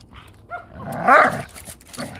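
A big dog named Summer gives a short burst of vocalizing, a loud close bark or yip in the middle between quieter breathy sounds, with no talk over it.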